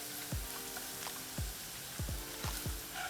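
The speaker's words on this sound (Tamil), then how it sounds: "நீங்கள் மெல்லிய நெருப்பில் வதக்கினாத்தான் இந்த எண்ணெயில் எல்லாம் நின்று வடிவாக வதங்கும்" Onions sauté in oil over a low flame for a Jaffna-style egg curry, with a steady close sizzle broken by several dull knocks of a spoon stirring the pan.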